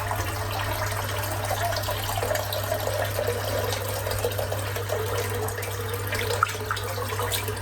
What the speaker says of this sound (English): Fill it back up again and a bit of water.